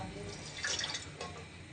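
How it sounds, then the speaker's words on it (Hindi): About a cup of water is poured into a kadhai to start sugar syrup for bread halwa, a brief splashing trickle in a kitchen, close and moderately loud, with a soft voice beneath. "इसमें मैं 1 कप के करीब पानी डालूंगी।"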